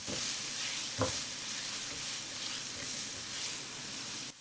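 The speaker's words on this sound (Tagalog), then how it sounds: "Maggisa tayo ng sibuyas. Sunod naman yung bawang." Chopped onion and garlic sautéing in a pan for a meaty fries dish, a steady close sizzle with one brief stirring scrape, no voices.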